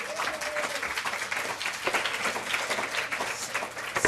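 An audience applauds a speaker at an event about cancer care, a steady wash of hand clapping that is moderately loud and sustained for several seconds, with a few voices faint underneath.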